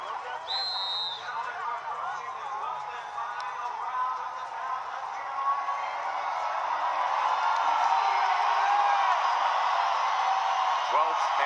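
Boxing arena crowd cheering for hometown champion Jose Ramirez before the 12th and final round against Jose Zepeda, a sustained roar that swells toward the end under a commentator's voice.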